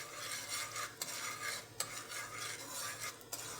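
Jaggery syrup being stirred in a pot, with a steady scraping, swishing churn of the spoon and a few sharper clinks against the vessel, close and continuous with no talking.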